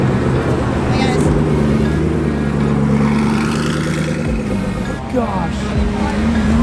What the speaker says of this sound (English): We've got more Koenigsegg showing up and Stratman in the very back.